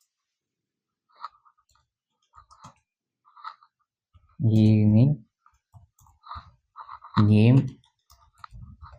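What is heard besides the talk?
computer keyboard typing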